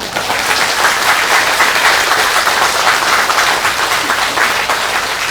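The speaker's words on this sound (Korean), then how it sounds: "큰 박수" An assembly at a Buddhist temple's overnight New Year practice gives a big round of applause for a museum director monk, a thick, continuous crowd clapping that stays loud and even throughout.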